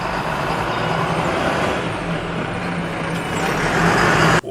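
A bus idles and rumbles close by on a roadway, a dense, steady engine drone with a faint low hum, ending in an abrupt drop near the end.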